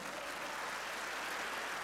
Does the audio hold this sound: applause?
yes